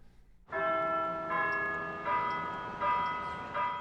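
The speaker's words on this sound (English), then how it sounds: "For whom does the bell toll?" A bell tolling on the Shaw University campus, a series of rich ringing strikes roughly every three-quarters of a second, each blooming and sustaining into the next, clear and prominent with no voices.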